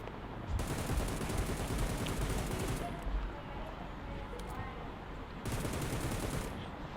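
Rapid, continuous gunfire in PUBG Mobile rattles in dense bursts with brief pauses, sounding like game weapons firing, at moderate level without talk.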